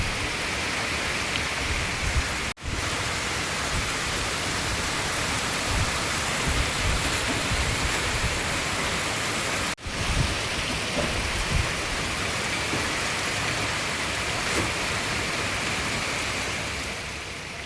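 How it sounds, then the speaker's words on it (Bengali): Heavy rain pours down in a steady, dense roar that fills the whole stretch, loud and close, with two brief dropouts and no voices. "ওরে বাবা, বৃষ্টি শুরু হয়েছে বিশাল ভাবে"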